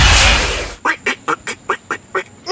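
A duck by its nest quacks in a quick run of seven or eight loud, close calls at a steady pace, following a burst of rushing noise at the start.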